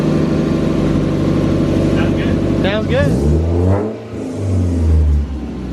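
A BEAMS-swapped Toyota AE86 engine runs with a loud, steady low drone, its pitch shifting briefly as it revs, while voices talk over it close by.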